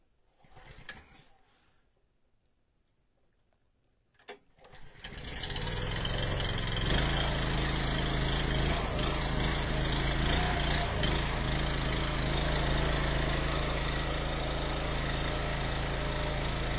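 A gas engine on a firewood log splitter, used for splitting ash rounds in a driveway, gets pulled and coughs briefly, then catches and settles into a loud, steady running drone after some quiet.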